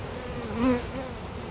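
Honeybees at an opened hive during an inspection, a close, continuous buzzing hum that swells briefly in the middle of a short stretch.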